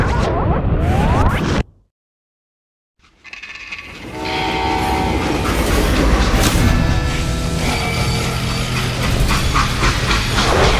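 A freight train in the Call of Juarez: Gunslinger video game rumbles and clatters steadily with a whistle-like tonal blast, broken by a brief dead-silent gap before the rolling din resumes loud and dense.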